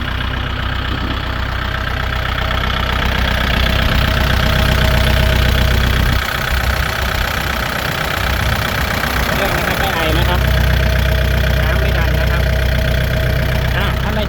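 A Kubota L4708 tractor engine idles with a steady, loud low rumble and even mechanical chatter, close by, while someone talks over it.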